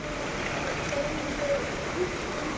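Rain falling steadily outdoors, a soft, even wash of patter with no break, heard from nearby at a moderate level and without voices.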